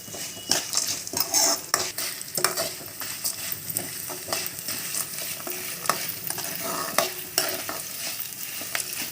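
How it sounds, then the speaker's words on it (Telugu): Coriander seeds, sesame seeds and cumin fry in a pan for spinach chutney, sizzling softly while a spoon stirs and scrapes with repeated metallic clinks, close and without talk. "ధనియాలు, నువ్వులు ఫ్రై చేద్దామండి. ఇవన్నీ ఫ్రై చేద్దామండి."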